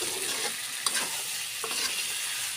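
Bottle gourd sautés with black gram lentils and potato in a pan, a steady close hiss of frying under a few soft scrapes of a stirring spoon.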